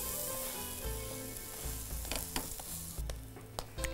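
Food fries in a pan on both sides, sizzling continuously with a dense crackle and occasional sharper pops, loud and close.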